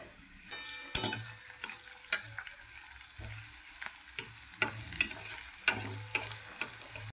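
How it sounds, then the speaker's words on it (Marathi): Onions and crushed garlic fry in oil for sev bhaji, a soft steady sizzle punctuated by repeated spatula scrapes and taps against the pan. "आपल्याला लसूण चांगलं तेलामध्ये फ्राय झालेला आहे. आता आपण कांदे टाकून घेऊ."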